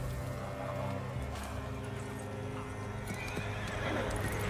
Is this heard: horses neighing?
yes